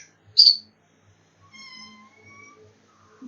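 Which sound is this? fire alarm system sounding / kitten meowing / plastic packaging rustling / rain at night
kitten meowing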